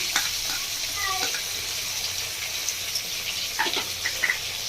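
A fish roe mixture is stirred in a sizzling pan with soy, chili and tomato sauces, giving a soft steady hiss with light scraping and clinking from the stirring, faint and close.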